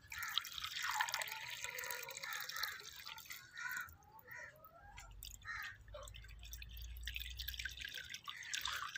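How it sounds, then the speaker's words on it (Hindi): Water poured into a metal plate (thali) for mixing Disprin, giving a steady splashing and dripping stream with a low rumble partway through, fairly close and moderately loud. "मैं पानी डाल देता हूँ।"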